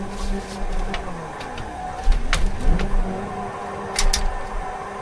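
A van engine in the BeamNG driving game revs and surges unevenly while drifting, with sharp clicking taps and tire scrub over a constant mid-level drone.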